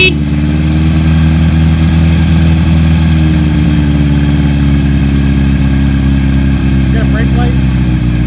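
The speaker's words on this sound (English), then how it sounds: "The motor sounds great." A 1978 Kawasaki KZ1000 motorcycle engine idles steadily and loudly up close, a smooth continuous rumble with a faint rise near the end, under someone talking.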